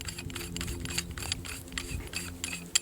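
A paintball marker barrel being unscrewed from a cocker-style body, giving a run of small mechanical clicks and ratcheting ticks over about three seconds, close and fairly quiet, ending with one sharper click.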